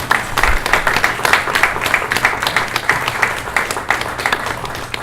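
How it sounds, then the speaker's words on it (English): An audience gives a round of applause at a brewpub event honoring Oregon wine pioneers, a loud close burst of many hands clapping in a steady patter that holds throughout. "Big round of applause, please"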